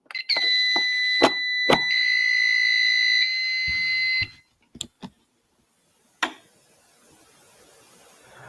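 A loud, piercing electronic fire alarm tone blares steadily for a few seconds, then cuts off, followed by scattered clicks and thumps.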